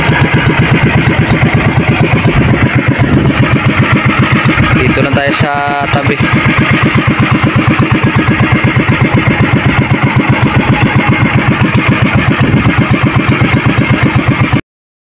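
A motorboat engine runs loudly and steadily with a fast chugging pulse as the boat heads out to sea in strong northeast monsoon wind, with a short spoken phrase partway through.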